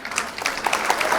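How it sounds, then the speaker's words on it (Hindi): An audience applauds a comic poet at a Hindi poetry recital, giving a brief burst of dense, close clapping that fills the whole moment. "आपकी तालियां मिलते रहे"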